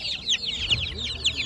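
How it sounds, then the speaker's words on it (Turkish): Broiler chicks and chickens at a poultry market in Karaman, Turkey, a dense run of high repeated peeping and chirping calls, close and continuous. "Etlik civcivler."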